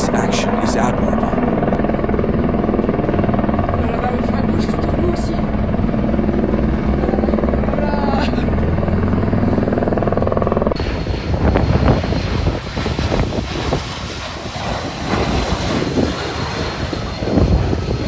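A helicopter flies over a snowy mountain slope, its loud rotor and engine drone steady and close, then changes to a rougher, gusty roar with heavy rumble partway through.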